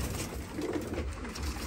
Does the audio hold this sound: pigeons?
yes